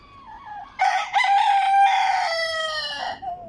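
A rooster on a poultry farm crows once, close and loud, in a long drawn-out cock-a-doodle-doo that rises and then trails off, with a quiet background.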